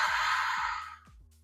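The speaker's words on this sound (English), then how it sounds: "Breathing." Deep exhale during a yoga stretch, a long airy sigh that fades over about a second, close and soft, with faint low thumps beneath.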